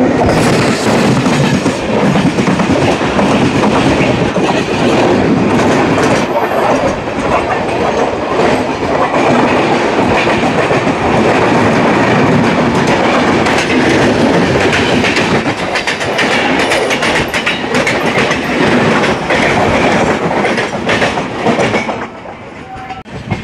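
The Sampark Express, running from Nizamuddin to Visakhapatnam, rolls loudly into Bobbili Junction, its wheels clattering steadily over the rails under a continuous heavy rumble that eases slightly near the end.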